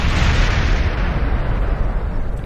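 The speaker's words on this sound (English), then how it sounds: "that second explosion did cost us an engine" A rocket explodes in a space program video game, giving a loud, close, sustained rumbling blast with heavy low-end roar that stays strong throughout, with no talk over it.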